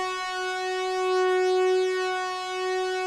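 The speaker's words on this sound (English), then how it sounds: "this high tonal synth, which will function first as riser and then slowly fade out in the drop" A high tonal synth riser built from a Model D wavetable with four-voice unison holds one bright sustained pitch with rich harmonics, swelling slightly in loudness over about three seconds, alone with no voices.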